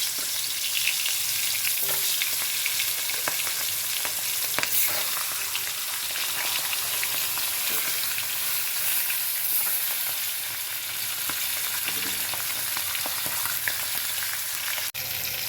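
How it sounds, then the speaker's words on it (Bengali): Katla fish head frying in hot mustard oil for a Bengali fish-head dal, a steady loud sizzle throughout with occasional pops and crackles, close by and with no voices. "এবার মাছের মাথাটা দিয়ে ভেজে নেবে"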